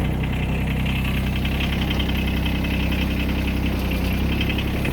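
John Deere X748 garden tractor with a Rad tech snowblower attached, its engine idling in a steady, loud, close mechanical rumble with a slight knocking texture, unbroken and with no talking.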